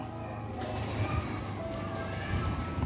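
A bird released into the wild calls nearby, giving low, soft cooing notes that repeat over a steady outdoor background, with no one talking.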